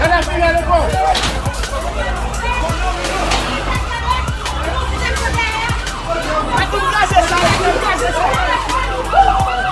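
Fire engine siren wailing as firefighters arrive at a house fire in Jérémie, its rising and falling tones running loud and continuous over a noisy crowd murmuring and calling out nearby.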